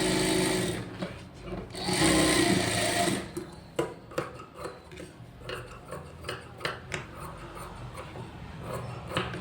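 A computer embroidery machine stitching blouse cloth runs loud and continuous for about three seconds, then shifts to a quicker series of sharp rhythmic needle taps over a steady mechanical hum.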